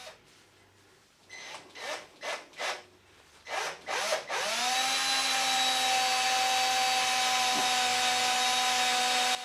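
A power drill fitted with a cobalt bit bores into a grub screw, starting with several short bursts of grinding before settling into one long, steady, close drilling whine.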